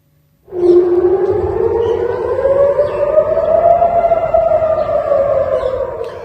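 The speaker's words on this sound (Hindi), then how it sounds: "इसके बाद मध्य इसराइल के शहरों में रॉकेट सायरन बजने लगे।" A rocket air raid siren in central Israel starts abruptly after a brief silence and wails loudly, its pitch rising slowly then gently falling, sustained and far-carrying.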